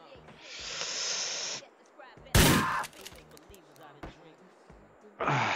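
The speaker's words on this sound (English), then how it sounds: "I have to shoot him." Gunfire in the GTA IV video game: a sustained hissing burst of shots, a sharp loud blast in the middle, then another burst at the end, with a voice talking over parts of it.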